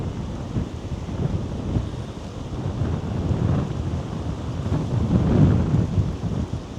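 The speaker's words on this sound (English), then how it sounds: "it is quite windy" Strong gusting wind buffets the microphone in a continuous low roar beside a canal, swelling and easing, loudest near the end, with no voices.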